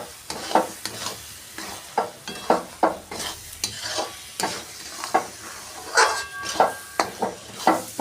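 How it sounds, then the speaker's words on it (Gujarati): Date chyawanprash mixture with ghee stirred in a pan, a spoon scraping and knocking in an uneven rhythm of repeated strokes over a soft sizzle, close and fairly loud. "હવે એમાં આપણે 1 ચમચો ઘી ઉમેરીશું અને પછી એને હલાવીશું"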